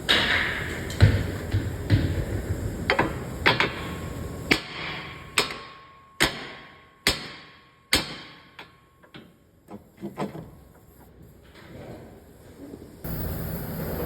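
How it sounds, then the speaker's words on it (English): A hammer strikes a ball joint on a Subaru BRZ lower front control arm repeatedly, sharp ringing metal blows about a second apart, close and loud, with a quieter shuffling stretch between the early and later strikes. "I'm electing to try to use a hammer"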